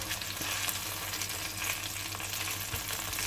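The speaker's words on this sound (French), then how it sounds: "ça fait à peu près 5 minutes que ça cuit sur le même côté" Frozen white fish fillets fry in a pan, a steady dense sizzle with faint crackles running through the whole stretch, close and unbroken, with no voices over it.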